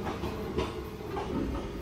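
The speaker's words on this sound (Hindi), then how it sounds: "ट्रैक साउंड सुनने में बहुत मजा आता है।" Rhythmic clickety-clack of train wheels over rail joints with a steady rolling rumble beneath, from ICF coaches of an Indian Railways train in a simulator game, Mumbai evening run; close and continuous, no voices.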